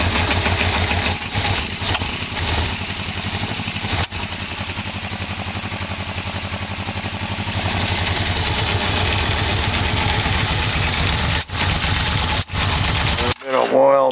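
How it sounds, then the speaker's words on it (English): A Yamaha Vmax motorcycle engine runs at a steady, close idle after its carburetors have been synchronized, a loud even rumble that breaks off briefly near the end. "looks like the motor started right up"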